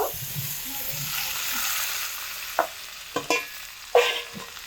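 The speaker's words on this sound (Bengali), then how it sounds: "সমস্ত সবজি দিয়ে খুব ভালো করে কষিয়ে নেব দুই থেকে তিন মিনিট সময় ধরে" Vegetables for shukto, mixed with radhuni paste, are fried and stirred in a pan, giving a soft continuous sizzle followed by a few sharp scrapes and taps of a spoon against the pan at close range.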